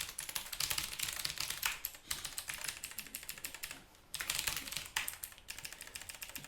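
Rapid clacky keystrokes on a mechanical keyboard with blue switches, continuous bursts of typing with brief pauses, close and fairly loud.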